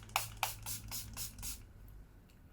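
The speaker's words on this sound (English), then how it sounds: "So I'm using this Revolution glycolic acid. So I just spritz this spray" Revolution glycolic acid facial spray gets about six quick spritzes in a row, soft hissy puffs close by, followed by a moment of near silence.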